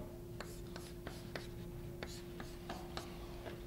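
Chalk or a marker taps and scrapes on a board while a chemical structure is drawn during an organic chemistry lecture, a series of short, faint strokes over a steady hum of room noise.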